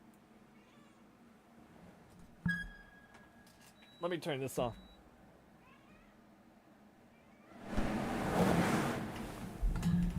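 A cat meows loudly in a few drawn-out, rising cries, close by, followed by a burst of rushing noise; a person speaks briefly before the meows.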